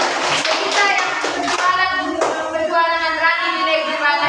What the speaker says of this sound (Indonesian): tepuk tangan dulu untuk Beatrice